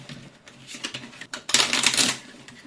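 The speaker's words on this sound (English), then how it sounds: "let's now shuffle the other half of the deck" A deck of tarot cards being shuffled off camera, with soft, rapid papery riffling and clicking that builds into a louder burst near the end, close by with no talking.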